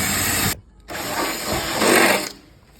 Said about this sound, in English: And now you're just simply going to drill it out.